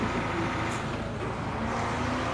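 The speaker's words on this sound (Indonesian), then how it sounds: "macet guys, rame banget." Heavy nighttime street traffic jam in Bali: a steady, loud rumble of trucks, buses and cars, with a brief hiss like an air brake.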